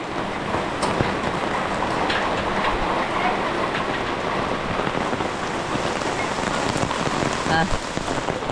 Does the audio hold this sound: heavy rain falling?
yes